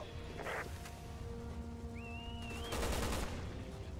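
A burst of gunfire crackles in Resident Evil 6. It comes as a short volley early on, then a denser rattle near the end over a steady background hum, with a brief whistling tone between the bursts.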